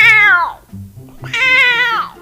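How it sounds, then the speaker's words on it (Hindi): A motorbike horn gives two loud, drawn-out cat-like meows, the second longer, with a low murmur between them. "बिल्ली की आवाज जैसा आया।"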